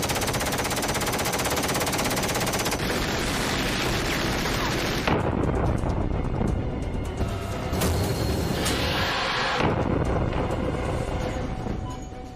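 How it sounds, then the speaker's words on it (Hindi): Gunfire in a war movie scene: sustained, dense machine-gun bursts roar continuously and loudly, thinning briefly mid-way before resuming, with no speech. "Alright, firing."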